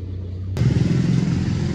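A motorcycle engine starts up outside with a sudden rumble and keeps running at a steady, fairly loud idle, with no one speaking.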